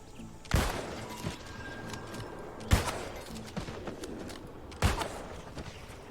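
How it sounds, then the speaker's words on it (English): Gunshots in a video game: three evenly spaced, sharp reports roughly two seconds apart, each followed by a short fading tail over a low background rumble. "Love shooting people with the gun"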